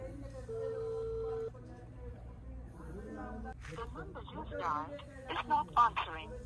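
An unanswered phone call: a single ringback tone purrs for about a second, then voices talk and chatter over faint background noise.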